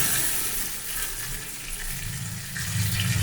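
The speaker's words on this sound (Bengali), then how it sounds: "আমি এখন জল দিয়ে দিচ্ছি, হালকা একটু গরম জল দিয়ে দিলাম।" Warm water poured into a simmering pot of tilapia fish curry with pointed gourd and pumpkin, a rushing splash and bubbling that grows louder toward the end.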